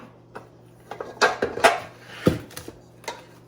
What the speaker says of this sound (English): Now I'm going to switch from the paddle to the dough hook.